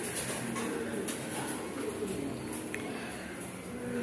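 A pair of adult Jabra pigeons coos softly under a constant hiss of background noise. The low calls are faint and repeat over a few seconds.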